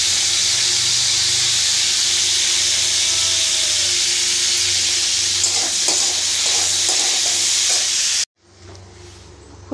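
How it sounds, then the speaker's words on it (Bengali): Cauliflower florets and potato pieces fry in hot oil with a loud, steady sizzle close up, joined by a few light stirring knocks near the end before the sound cuts off abruptly. "এরপর ভেজে নেব ফুলকপি আর আলু।"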